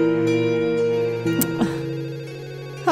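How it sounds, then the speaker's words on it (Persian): A home landline telephone rings in a dubbed TV drama scene, its electronic tone repeating in short even bursts, fairly loud and close, with brief clicks and no speech over it. "این تلفن خونم که هی دینگ دینگ دینگ داره زنگ میخوره"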